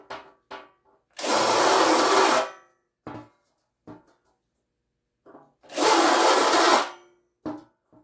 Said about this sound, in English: So when we're deburring that side, sometimes you got to try a little wiggle around a little bit.